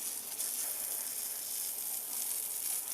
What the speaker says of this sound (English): I'm gonna grab my hose and just rinse it down